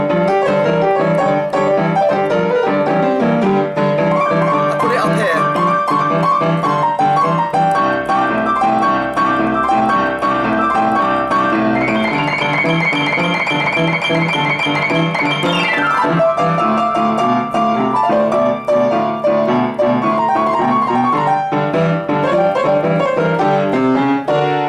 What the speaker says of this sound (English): That little rolling blues riff.